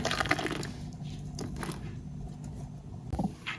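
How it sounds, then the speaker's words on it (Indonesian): Water is poured into small pudding containers, about 100 ml each, a close, steady splashing fill with brief clinks in a quiet kitchen. "Selanjutnya tambahkan air secukupnya di masing-masing wadah."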